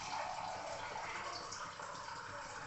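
Water being poured into flour for kneading puri dough, a steady soft gushing wash that runs the whole time without pause.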